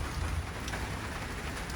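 Heavy rain on Siargao island during the wet season, a steady dense hiss of downpour on surfaces, continuous and fairly loud with no voices.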